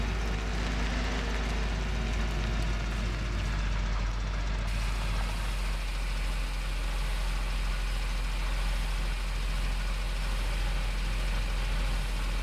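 Tractor engine in Farming Simulator 17 runs steadily with a constant heavy low drone and a broad mechanical hum, unchanging and close throughout.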